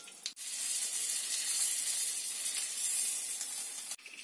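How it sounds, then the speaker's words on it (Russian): Egg-dipped lavash meat pies fry in a pan with a continuous bright sizzle, briefly interrupted near the start and again near the end, at a fairly quiet level. "Опускаем в яйцо каждый пирожочек и обжариваем."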